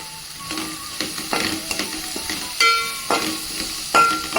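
Curry leaves and coriander crackle and sizzle as they fry in a hot pan, with sharp spitting pops and bursts of hissing over a quieter bed of frying.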